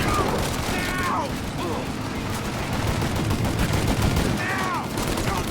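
Gunfire in the video game Mafia Definitive Edition: dense, continuous bursts of shots and rattling automatic fire fill the whole stretch, loud and close, with faint shouting voices mixed in.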